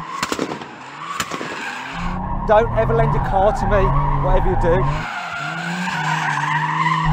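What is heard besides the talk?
Toyota Supra TRD drifting sideways, tires skidding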